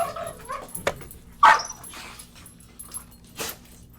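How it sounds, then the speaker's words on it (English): Several dogs bark and yip in short sharp bursts with some whimpering, close and fairly loud, spaced irregularly over a few seconds with no talk. "These dogs are going crazy down here."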